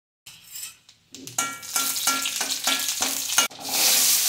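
Cumin seeds and a single dried red chilli crackle and sizzle in hot ghee, a loud close frying hiss with repeated rhythmic clinks and scrapes of a spoon against the pan, briefly dropping quiet before the sizzle swells again.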